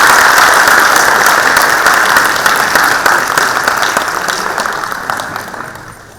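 A conference audience gives a full round of applause for a speaker, loud and continuous at first, then tapering off gradually.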